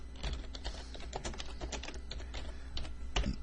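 Fingers type quickly on a computer keyboard, a dense run of close, crisp key clicks with an irregular rhythm, no talking, over a low steady hum.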